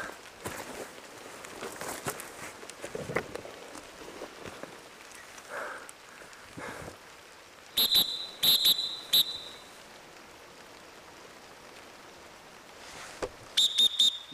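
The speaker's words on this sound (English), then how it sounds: "You hear that whistle?" A whistle blown somewhere in a forest during a wilderness hunting trip in Temagami, heard as several short, sharp, high-pitched blasts, a cluster in the middle and another near the end, over a faint background of insects and rustling.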